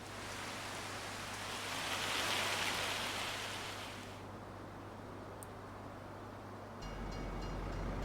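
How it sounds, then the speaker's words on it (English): Train passing in the Farming Simulator 25 game world, a broad steady rumbling rush with a low hum that swells and fades, heard in the background at moderate, distant loudness. "We can hear the train in the background"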